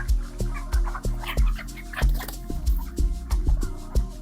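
Rapid, repeated clucking and squawking from a group of broiler chickens, close and busy, with sharp calls overlapping in an uneven rhythm.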